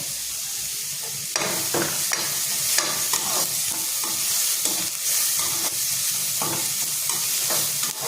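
Garlic cloves and a piece of ginger tossed into onions frying in a pan for a Maharashtrian onion-coconut paste, with a loud, close, continuous sizzle broken by frequent scraping stirs of a spatula.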